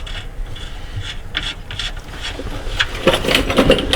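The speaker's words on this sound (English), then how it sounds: "I like to use my Milwaukee 3/8 electric ratchet to run the bolts down" A Milwaukee 3/8-inch electric ratchet runs bolts down during a 6T70 transmission install, giving repeated short bursts of whirring, rasping mechanical sound, close and fairly loud, with clicks between bursts.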